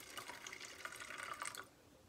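A flavored wine mixer pours into a glass in a steady liquid stream for about a second and a half, soft and close, then stops.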